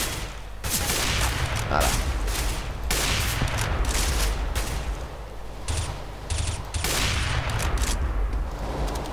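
Sustained automatic gunfire from a Counter-Strike: Global Offensive match, dense bursts of rapid shots rattling almost continuously for several seconds with brief gaps, loud and close, with a voice speaking over the shooting.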